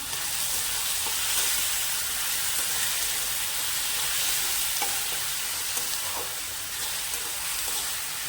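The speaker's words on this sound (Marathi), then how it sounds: "आपल्याला हे चांगलं व्यवस्थित मऊ करेपर्यंत बघा आता आपल्याला हे परतून घ्यायचं चांगलं" Onion and tomato being sautéed in a pan for paneer bhurji, a continuous moderate sizzle with faint scraping and stirring, no voices.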